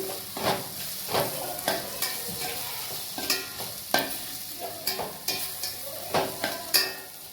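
Potato fried rice with turmeric and salt is stir-fried in a pan, steady sizzling punctuated by rhythmic scraping strokes of a spatula roughly every half second, close and fairly loud.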